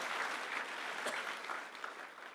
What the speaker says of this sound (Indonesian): Berikan tepuk tangan untuk Tuhan kita.